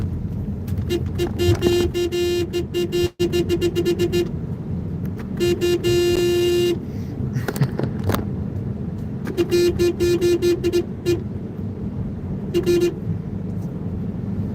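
Car horns honk repeatedly amid busy traffic, with short toots and longer sustained blasts over a constant roadway rumble.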